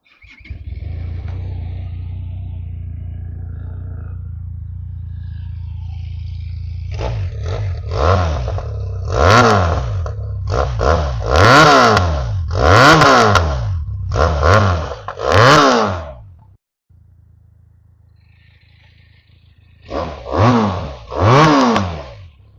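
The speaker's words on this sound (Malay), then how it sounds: "Binali TRK 502X bunyi dia macam ni." A Benelli TRK 502X motorcycle with its original exhaust starts up, settles into a steady idle, then gives a run of sharp throttle blips that rise and fall, pauses briefly and revs twice more. The engine is loud and close, with no talk.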